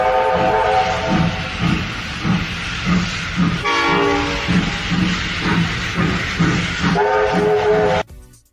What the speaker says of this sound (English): Steam train, locomotive.